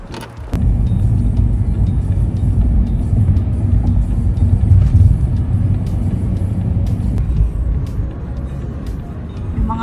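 Steady low road rumble from inside a moving car on a drive in Canada, a continuous engine and tire drone throughout with faint voices talking underneath.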